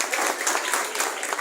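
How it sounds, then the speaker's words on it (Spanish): Church congregation applauding a welcomed guest, a dense burst of clapping from a crowd, fairly loud and continuous for the whole short stretch. "Un fuerte aplauso, por favor."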